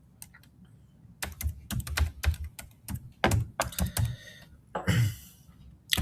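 A computer keyboard is typed on at close range, with bursts of quick, crisp key clicks broken by short pauses and a heavier final thunk, alone and fairly loud.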